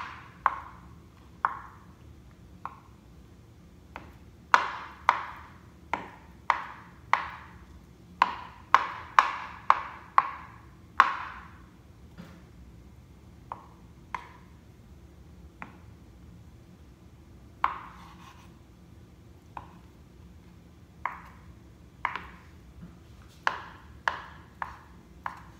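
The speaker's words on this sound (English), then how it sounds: "I'm going to start by chopping up the eggs" A knife chops boiled eggs on a cutting board in crisp, separate taps, some single and some in quick bursts, with short pauses between them. The strikes are close and clear, with no talking.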